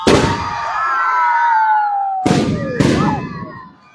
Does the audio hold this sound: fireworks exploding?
yes